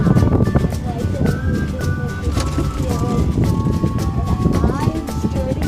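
Wind roars across the microphone on an open Skyfari cable car ride at the San Diego Zoo. The rough, steady rush of air fills the whole clip, with faint tones and rattles from the gondola mixed in.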